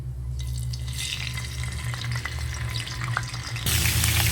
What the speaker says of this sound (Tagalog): Ang gagawin naman natin ngayon, tayo ay magpiprito ng tilapia.